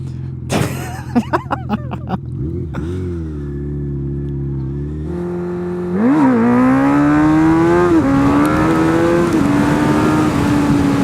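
A motorcycle engine revving during a wheelie, with gear shifts audible as the pitch drops and climbs again, loud and close, ending in a sustained, rising drone.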